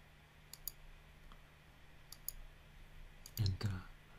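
A computer mouse clicking during AutoCAD surface modelling, with a few sharp, isolated clicks spread across a quiet room and a faint double click near the end.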